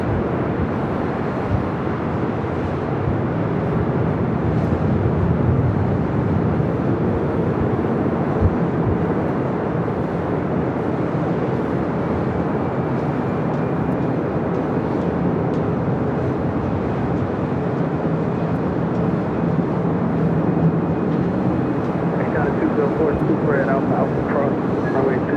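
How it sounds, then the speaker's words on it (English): An Air France Boeing 777 takes off from the south side at LAX. Its loud, steady jet roar fills the whole clip with a broad, unbroken rumble, and a voice carries faintly beneath it. "Air France 777 taking off on the south side."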